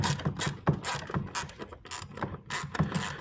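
A socket ratchet clicks in quick, even bursts while spark plugs are tightened by hand on a 2.0 EcoBoost engine in a 2019-2024 Ford Edge, close and fairly loud, with no talking.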